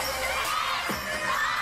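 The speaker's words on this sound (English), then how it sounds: "Oh, hear the screams." A concert crowd of fans screams in a continuous, loud, high-pitched roar, dense and sustained throughout, heard as if from within the audience.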